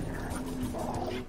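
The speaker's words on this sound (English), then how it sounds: "They have dogs with them, too?" Dogs whimper and yip faintly in a tense movie scene, a few short whines over a low rumbling background, with no clear talk.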